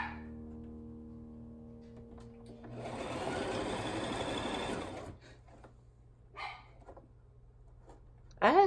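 A Brother sewing machine whirs close by in one fast, steady run of about two seconds while stitching a wig weft, then stops, followed by a dog's brief bark and whimper.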